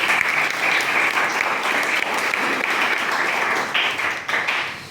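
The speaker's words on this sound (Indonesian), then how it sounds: "mari kita kasih aplaus untuk Davi" Classroom applause for a student in an Indonesian teacher-training session, a dense, steady wash of many hands clapping that holds for several seconds before thinning slightly at the end.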